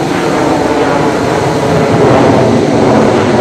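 FA-18 jet aircraft engine in the Arma 3 video game, a steady, loud, broadband roar that holds evenly throughout with no pauses or voices.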